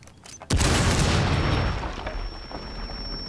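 One heavy gunshot-like boom bursts out in the Rainbow Six Siege video game, loud and close, its rumbling tail slowly decaying while a high electronic tone lingers beneath.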